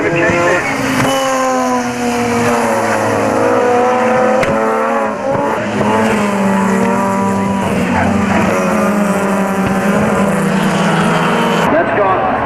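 A club race car with a failing engine on the straight at Oran Park, Australia, at a 1996 club racing event: loud, sustained, rising and falling engine notes with other cars roaring nearby throughout.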